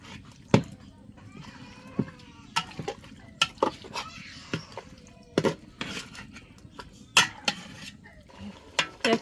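Spice paste is ground by hand for a busy day's home cooking. Irregular knocks and scrapes of stone and utensils come close and fairly soft, with short sharp hits scattered over a quiet background.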